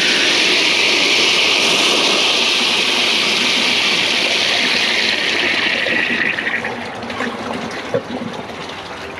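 A 2008 Kohler Cimarron toilet with a high bucket tank and siphon jet flushes thick fabric, giving a loud, steady rush of water that fades into a weaker trickle and gurgle near the end.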